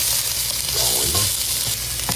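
Garlic sautéing in a hot pan, a loud, steady close-up sizzle with faint stirring clatter running throughout, no voices over it.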